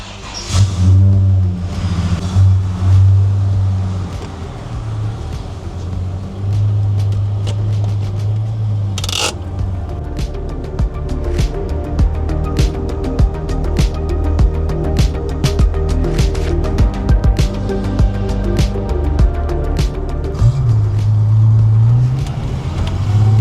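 Holden VS Commodore engine on a road test after power mods, revving and accelerating loudly and steadily close by for over twenty seconds, with repeated surges in pitch and a few clinks and scrapes mixed in.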